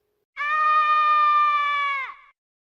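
A sound effect from the video game Mario Kart 64: one sustained, bright electronic tone holds steady for almost two seconds, then bends downward and cuts off. It is heard alone and clearly.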